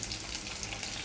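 Steady, dense crackling and sizzling of mustard seeds spluttering in hot oil, continuous and fairly quiet, with no voices.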